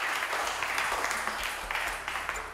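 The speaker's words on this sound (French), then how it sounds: "Applaudissons pour Cédric et Arsène" A studio audience at a French-language television game show applauds two contestants, a dense, moderately loud patter of clapping with a low hum underneath and faint voices mixed in.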